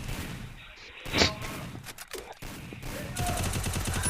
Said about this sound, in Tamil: தமிழ் பசங்க ஒரு ஹெட்ஷாட் அடிச்சு ஒரு கில் எடுத்துருக்காங்க